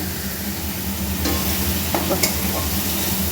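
Spices stir and sizzle steadily in hot oil for a bottle-gourd curry, a constant frying hiss with a few faint clinks of a spoon against the pan.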